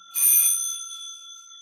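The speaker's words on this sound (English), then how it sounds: "this is actually was designed to be a bicycle bell. But this is also meant to be a doorbell." A single bright ding from an electric bell in a silent-film-era trap drum set, a bell built for a bicycle that doubles as a doorbell, rings loud and close, then fades with a long metallic ring.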